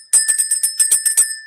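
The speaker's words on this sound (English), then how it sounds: "We do have a bell." A small bell rung to mark the stock market open, a quick run of about nine bright, tinkling strikes, loud and close.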